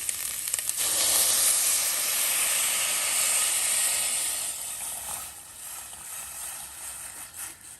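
A rushing hiss of about two litres of water hitting a hot pot of fried carrots for chicken soup, loud and steady at first, then slowly easing into a softer simmering hiss.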